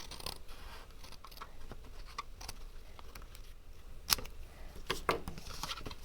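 Paper cutter slicing cardstock against a template for an angled gatefold card, heard as faint, scattered scraping ticks and a couple of sharper snaps in a quiet room.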